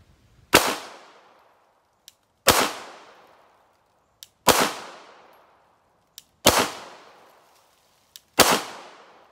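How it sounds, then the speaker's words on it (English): Five single gunshots from a firearm fired at a range target, each a sharp loud crack with a decaying tail, spaced about two seconds apart, with faint clicks between shots. "I'm just gonna blast a few more rounds through this."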